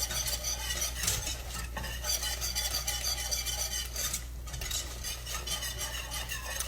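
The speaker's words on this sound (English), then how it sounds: "Using a whisk to get it all dispersed evenly." A whisk stirs a creamy Alfredo sauce in a pan, giving a steady, continuous swishing scrape with soft metallic clinks throughout, fairly close and moderately quiet, with no talking.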